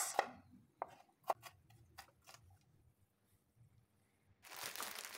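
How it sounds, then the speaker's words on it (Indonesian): Garlic cloves and shallots are sliced with a knife on a cutting board, giving a few sharp, separate chopping taps near the start and then softer scattered cuts. A brief rustling noise follows at the end. No talking. "5 siung bawang putih dan 3 siung bawang merah kita iris-iris."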